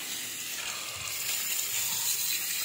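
Steady running water pours over papayas being washed, a constant broad hiss close by with no talking.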